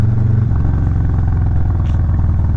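Harley-Davidson Road Glide motorcycle engine rumbling steadily while riding, a loud, close, continuous low throb with road and wind noise and no pauses.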